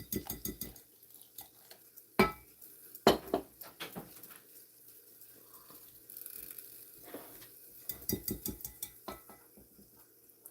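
Pancake mix being stirred with water in a bowl in a home kitchen, with a few sharp clinks and knocks of utensil against dish, soft scraping stirring in between, close and moderately loud, no talking.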